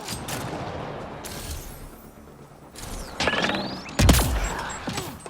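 Gunfire in the Mass Effect Andromeda video game: scattered bursts and sharp impacts over a noisy battle bed, with the loudest shots near the end.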